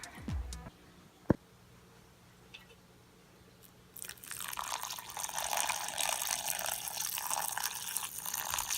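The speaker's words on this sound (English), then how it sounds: "I'm going to water this plant and then that'll be it." Water poured onto a freshly repotted Monstera plant, starting with a few faint clicks and taps, then a steady hissing splash into soil from about halfway on.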